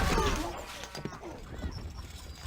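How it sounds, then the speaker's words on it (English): Arabian horses carrying horse archers in Stronghold Crusader, hooves clip-clopping faintly and rapidly as the riders move, with a brief voice at the start. "The Emir is sending out some Arabian horses, horse archers."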